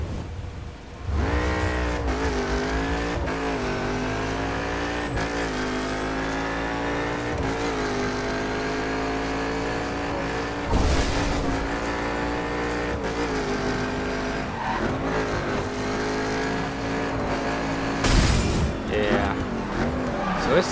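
Car engine in the racing video game The Crew, droning and revving steadily with pitch rising and falling through gear changes, a few sharp bumps or impacts, while someone talks over it.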